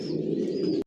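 A racing pigeon coos in a loft with one sustained, low, burbling call heard close by, ending in a brief soft knock.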